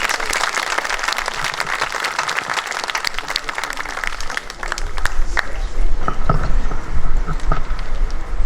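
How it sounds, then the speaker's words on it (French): A congregation at a Catholic Mass claps steadily throughout, dense and continuous, with the clapping swelling louder toward the end. "Vous pouvez les applaudir aussi."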